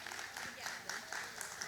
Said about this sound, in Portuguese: Palmas para ela, por favor